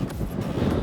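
Gusty wind buffets the microphone on a rocky mountain summit in Rocky Mountain National Park, a steady low roar with no one speaking.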